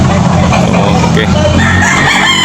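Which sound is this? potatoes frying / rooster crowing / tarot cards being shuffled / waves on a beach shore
rooster crowing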